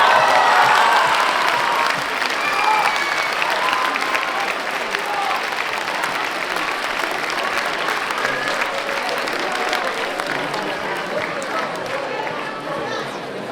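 A theatre audience at a high-school eloquence competition final breaks into sustained applause, loud and dense at first, then steady and gradually tapering, with some crowd chatter mixed in.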